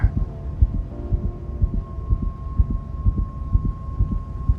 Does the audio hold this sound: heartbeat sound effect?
yes